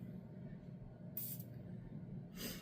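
Cologne atomizer gives two short, airy sprays, the first in the middle and the second near the end, each a crisp hiss over a quiet room.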